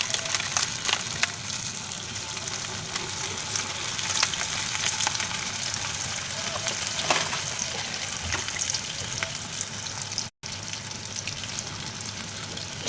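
A store-bought cheese-filled chicken roll fries in a pan, giving a steady, moderately quiet sizzle and crackle with occasional pops and stirring scrapes, without any talk.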